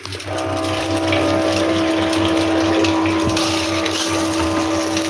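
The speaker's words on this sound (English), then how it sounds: "you're gonna hear the sound of my water machine here now" A steady mechanical hum with a constant tone, like a pump running, joined by rushing, gushing water that continues unbroken throughout.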